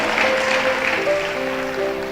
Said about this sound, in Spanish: Dale un fuerte aplauso al Rey de los cielos